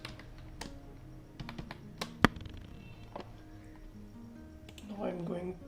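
Scattered keystrokes and clicks on a computer keyboard while editing in After Effects, irregular taps under a voice.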